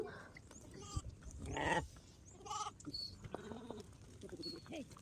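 Lambs and sheep bleat in a pen, several uneven calls overlapping, moderately loud and close, with rustling and handling noise around them.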